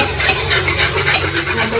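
Spices crackle and sizzle in hot oil for a tadka while black chickpea curry is being cooked, a loud, dense, continuous frying hiss close to the pan with no talk.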